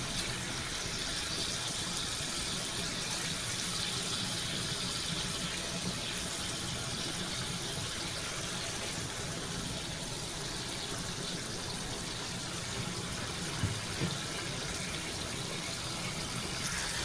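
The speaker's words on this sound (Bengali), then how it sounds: "আর একটু পানি অ্যাড করে নিচ্ছি, যেহেতু মাছগুলো নাড়া যাবে না।" Water is poured into a cooking pan of rui fish curry as it simmers, a continuous soft gushing and trickling lasting many seconds, fairly faint and heard alone without speech.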